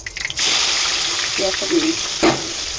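Sliced onions drop into hot oil in a home kitchen pan and fry with a steady broadband sizzle, preceded by a brief clatter, with faint stirring knocks partway through.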